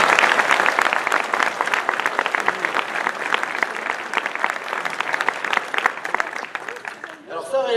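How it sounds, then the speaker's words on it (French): An audience at a civic New Year's wishes and medal ceremony in Comines applauds steadily, a dense wash of clapping that continues for several seconds and trails off near the end as a voice begins. "Alors on peut les applaudir."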